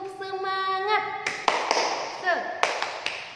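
Primary school pupils in a classroom do a teacher-led spirit clapping chant: a sung, chanted voice first, then sharp rhythmic bursts of clapping mixed with more chanting.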